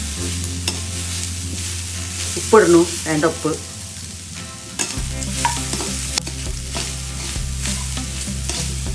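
Beetroot and grated coconut fry in a pan, a continuous close sizzle with stirring scrapes, while a person briefly speaks over it partway through.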